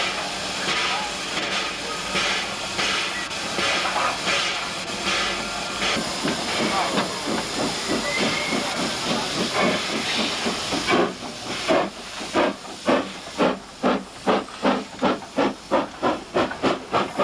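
A steam locomotive at the 1991 Isle of Wight steam extravaganza, with a continuous loud hiss of steam building into rhythmic chuffing exhaust beats as it pulls away, with some talk in the background.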